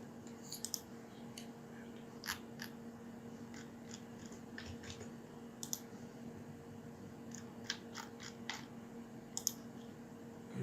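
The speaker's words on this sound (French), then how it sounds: "On clique comme ça" Sharp, isolated mouse clicks while working in Revit Structure on steel construction, scattered irregularly over a steady electrical hum, close and fairly quiet.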